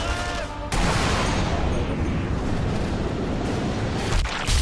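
A heavy sniper rifle shot in Sniper Elite V2 opens with a sharp report, then a long rumbling tail like a slowed-down boom that fills the clip, loud and booming.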